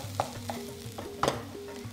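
Onions browning in a pan for a spiced tofu scramble, a quiet sizzle with a few soft knocks and scrapes of a utensil, no voices.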